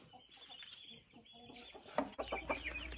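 Chickens cluck inside a henhouse, soft scattered clucks at first, then a louder burst of close, rapid clucking toward the end.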